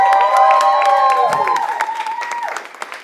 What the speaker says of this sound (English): We'll give them applause now.